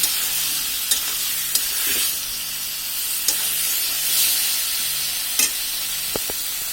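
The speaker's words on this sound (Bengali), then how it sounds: "এখন আলু আর কাঁচকলা আমরা এটাকে" A loud, steady sizzle of potatoes and green banana frying in a pan, broken by sharp scraping clicks as they are stirred every second or so.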